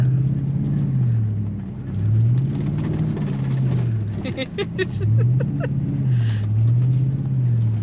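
A car engine drones steadily with slow rises and falls in pitch as the vehicle labors through rutted sand dunes, with people talking over it.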